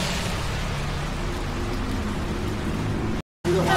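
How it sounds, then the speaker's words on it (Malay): Steady rain falls during a morning motorcycle ride on Samui, Thailand, a dense continuous hiss at moderate level with a brief dropout near the end. "Ini pagi ni memang hujan lah."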